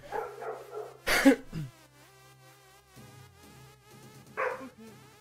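A dog barks a few times at moderate distance, with short sharp yelps and brief gaps in between.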